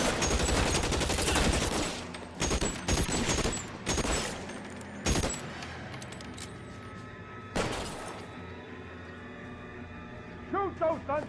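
Gunfire in a period crime shootout in the LA Noire video game: several loud, sharp bursts of shots spaced across the scene, with echoing tails and quieter gaps, and a voice speaking amid the firing.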